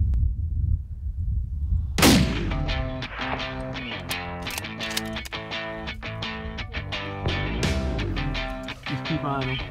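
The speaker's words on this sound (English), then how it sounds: "I shot my Aoudad" A single loud rifle shot cracks out around two seconds in during an aoudad hunt in New Mexico, its echo ringing and rumbling on through the rest of the clip.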